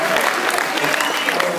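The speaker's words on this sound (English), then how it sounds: "can we have a request for us, a round of applause for our stage manager, Carol Moore." Steady applause from an audience, a dense wash of clapping that fills the whole moment without pause.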